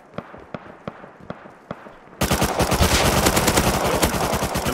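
Gunfire in the video game Rust: a few single shots spaced apart, then a sudden, loud and dense burst of rapid automatic fire that keeps going.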